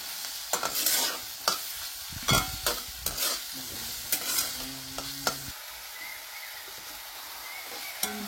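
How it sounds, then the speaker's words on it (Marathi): Chopped onion and green chillies frying in a pan, with a steady sizzle under repeated scraping strokes of a spatula stirring the pieces, close and fairly loud, with no one talking. "कांदा मिरची आता छान भाजून झाली"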